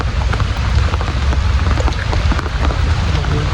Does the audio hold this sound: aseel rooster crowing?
no